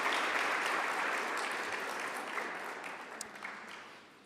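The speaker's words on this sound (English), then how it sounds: "the mayor deserves another round of applause" Audience applause at a petroleum policy consultation meeting, a dense wash of clapping that starts strong and gradually fades over a few seconds.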